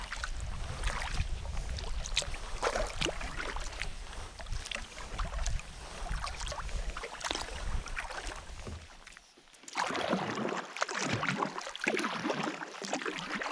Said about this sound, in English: So I've been paddling for about an hour now